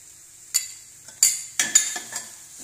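Egg gravy masala sautéing in a pan for Tamil egg curry makes several bright scraping stirs with a spoon, each a short clatter over a faint sizzle, about five strokes in quick succession.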